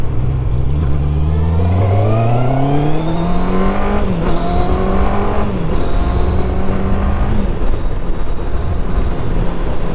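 A QJ Motor SRK 800RR sport-touring motorcycle is ridden on a cold, wet, gravelly road, its engine droning loud and close as it revs up and climbs through rising pitches across several gear changes, with steady wind rush throughout.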